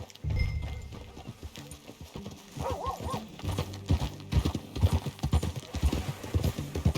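Horse hooves clip-clop while riding in Red Dead Redemption 2, a rhythmic trotting beat that grows steadier and louder, with a brief whinny early on and light ambient game sound behind.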